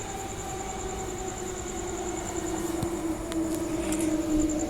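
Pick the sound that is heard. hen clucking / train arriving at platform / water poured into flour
train arriving at platform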